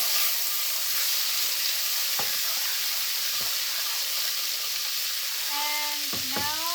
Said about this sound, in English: Now I'm going to put the green chili and ginger paste.